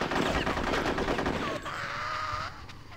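Bursts of gunfire in Conker's Bad Fur Day during a World War squirrels level, with rapid shots in the first half, then fading as a tonal game sound takes over.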